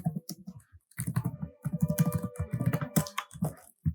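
Python code being typed on a computer keyboard, close and crisp, with irregular runs of rapid key clicks broken by brief pauses and no voice.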